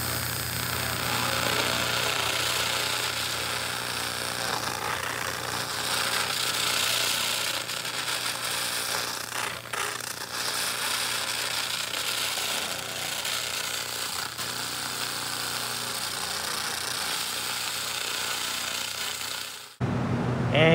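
A 2000W continuous wave laser cleans a heavily rusted, scaled metal surface at a low scanning frequency, giving a steady loud hissing, crackling buzz that runs without pause for about twenty seconds, then cuts off abruptly.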